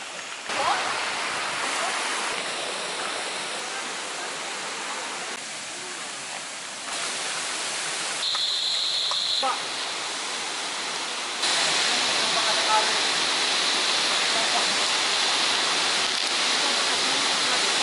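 Water rushes steadily near a waterfall on a walking trail, a loud, continuous broadband roar that shifts slightly in level throughout.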